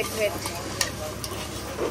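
Chicken and beaten egg sizzle in a frying pan while a utensil stirs and scrapes through them, a brief steady frying hiss with light stirring clicks.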